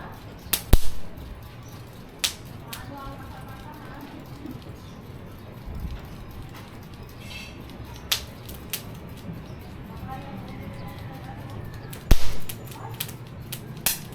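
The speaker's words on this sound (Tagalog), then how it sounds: "May pap May paputok tayo ng uling eh." Sharp, sudden pops and cracks burst out at irregular intervals over a low steady background as charcoal snaps on a grill while grilling milkfish and squid; a couple are loud and close.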